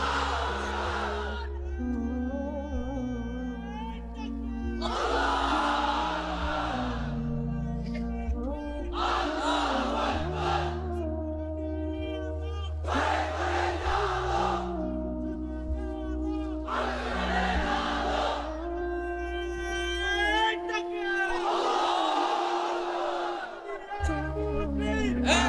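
A large crowd of unmarried men at a religious gathering roars a takbir call in unison, sustained loud voiced bursts repeating in waves over a low hum, with a leader's voice between them.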